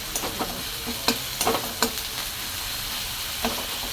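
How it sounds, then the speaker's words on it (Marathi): Onion and tomato sizzle while frying in a pan, and a utensil stirring them adds irregular scrapes and clacks over the steady frying hiss, all close by. "बघा आपला कांदा टमाटर ब्राऊन होत आहे"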